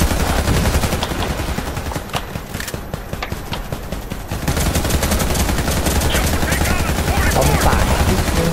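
Automatic gun spraying fire in the shooter game Warface, loud continuous rapid bursts of shots, with a brief lull midway before the firing resumes, with a voice briefly speaking over it.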